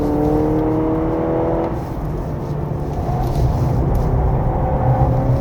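A 2025 Honda CR-V Hybrid 4WD at full throttle on a winding road: a steady engine whir whose pitch climbs, dips briefly, then climbs again, heard close from inside the cabin with no talking.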